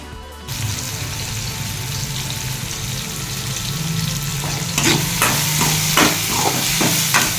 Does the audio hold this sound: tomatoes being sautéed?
yes